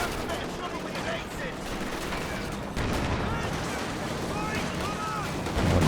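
Tank gunfire in the World War II strategy game Company of Heroes 2, amid a dense, noisy battle din, with a sharp, heavy shot cutting in near the middle and a further thump at the end.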